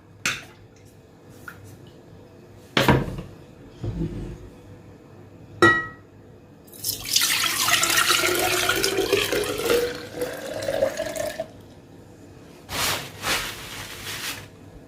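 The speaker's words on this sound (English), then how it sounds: "Then I'm going to be transferring it into this container." Homemade cucumber, ginger and lemon juice is poured into a container as a steady rushing stream lasting several seconds, with a few sharp clinks of glassware before and after. No one speaks.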